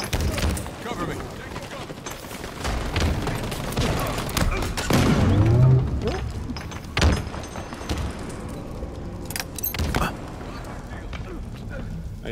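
Gunfire in the video game Halo Infinite: rapid weapon bursts and impacts crackle through a busy battle mix, with sharp shots near the middle and end as a voice talks over the action.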